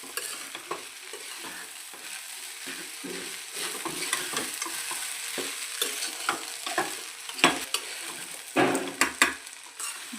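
Sabudana khichdi, a fasting dish, is stirred in a pan with a spoon, giving repeated scraping strokes over a steady sizzle that grow louder and more frequent toward the end, with no talking.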